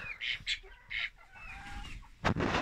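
Hens clucking in a backyard poultry coop at evening, short bursty calls repeating close by, followed by a louder broadband burst near the end.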